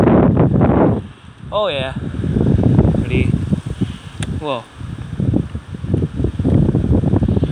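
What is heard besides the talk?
strong wind blowing while riding a bike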